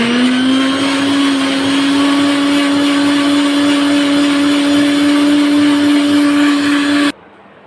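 An electric blender whirs through a chocolate milkshake. Its loud, steady motor whine holds at an even pitch for about seven seconds, then cuts off abruptly, leaving a faint tail.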